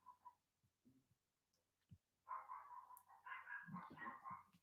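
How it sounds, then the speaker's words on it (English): A dog barking a few doors down, distant and faint at first with a few scattered yips, then a louder run of repeated barks toward the end. "Can you hear that barking dog?"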